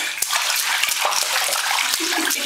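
Water splashes and sloshes steadily in a garden bathtub, a close, continuous wash of churning water with small irregular slaps throughout.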